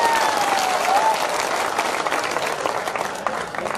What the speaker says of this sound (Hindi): एक बार जोरदार दोनों हाथ खड़े करके तालियां बजाइए